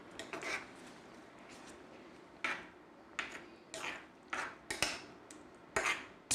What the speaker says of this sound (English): We add the cream. Quite a lot of it.